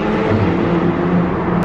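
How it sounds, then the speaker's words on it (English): Inside a turbocharged Ferrari driving through a tunnel on a motorway, a loud, continuous engine roar reverberates off the walls, with a steady, full drone and no pauses. "Sounds very Ferrari."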